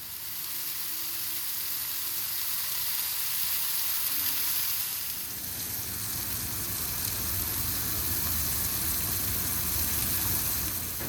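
Smash burgers topped with cheese sizzle and fry loudly on a griddle inside a van, a steady close hiss that grows denser partway through, with no talking.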